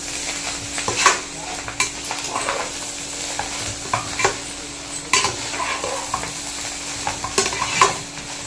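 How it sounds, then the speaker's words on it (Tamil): Egg rice is stirred in a hot pan, the spoon scraping and tapping the metal in irregular strokes over a low steady sizzle, close and fairly loud, with no talking. "இப்போ இது நல்லா மிக்ஸ் பண்ணிக்கலாம்"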